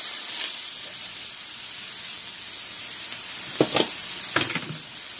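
Steak and vegetables fry on a hot flat surface with a steady soft sizzle, broken by a few sharper bursts of hiss and scraping near the end.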